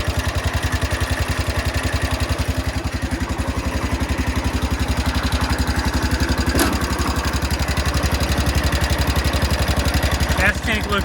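A Cub Cadet lawn tractor engine runs steadily just after a cold start, a loud, even, rapid firing pulse throughout with a brief sharp clatter near the middle and a faint voice briefly at the end.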